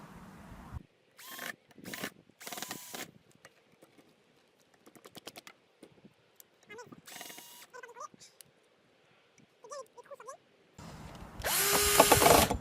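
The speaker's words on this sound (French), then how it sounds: "Alors moi les trous je les ai fait à la perceuse" A handheld power drill boring holes in a homemade skateboard slide bar, heard in several short, loud bursts separated by pauses, with a longer, louder run of drilling at the end; brief sounds of handling come between the bursts.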